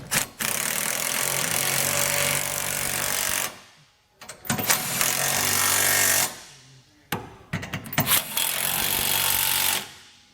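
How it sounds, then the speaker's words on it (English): An impact or power tool snugs down trailer hitch bolts with a 3/4 inch socket while a Curt hitch receiver is fitted to a 2022 Nissan Frontier, giving three loud, sustained rattling bursts separated by brief pauses. "we can go back with a 3/4 inch socket and tighten these all down."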